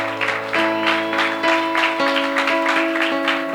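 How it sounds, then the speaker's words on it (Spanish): A church congregation applauds during an evangelistic service, clapping in a steady rhythmic beat over sustained keyboard chords that hold underneath. "Denle un aplauso al Señor."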